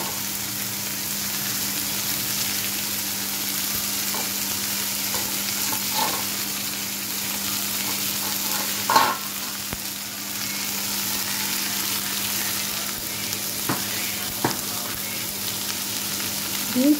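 Finely chopped raw green beans frying and being stirred in oil with curry leaves and asafoetida, a steady close sizzle with occasional scraping clinks of the spoon against the pan, no talking.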